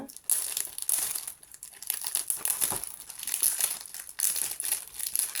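Plastic wrapping crinkles and rustles in close, repeated bursts as a Cricut mystery box package is opened, with no talking.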